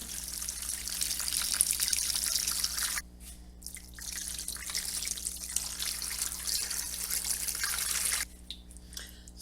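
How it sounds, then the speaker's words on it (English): Water pours from a tap into a large stock pot holding chicken bones and vegetables for broth, a steady splashing hiss that stops briefly twice, with drips in the gaps. "Now we're going to start adding our water."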